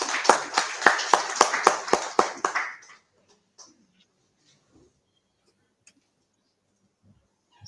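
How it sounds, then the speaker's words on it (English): A few seconds of sparse clapping, roughly a dozen claps from a small group, fading quickly into near silence with faint scattered taps. "So let us welcome Dr. Parag Kalkar with a huge round of applause."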